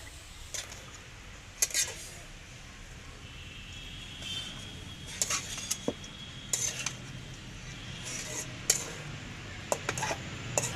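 Carrot, spring onion and cabbage are stirred in a pan for veg momo filling, with irregular sharp clinks and scrapes of a utensil against metal spread across the clip, fairly close and moderately quiet.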